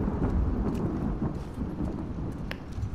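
A thunderstorm with lightning in the video game The Last of Us Part 2. Deep, rolling thunder rumbles continuously under a steady hiss of rain, close and full, with no talking.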